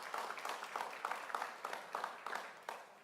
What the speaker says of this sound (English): please give her another round of applause for her strong